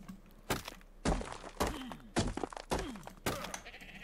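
Sheep in the video game ARK bleat several times in short, wavering calls, each opening with a sharp thunk-like onset, spaced about half a second apart and sounding fairly close.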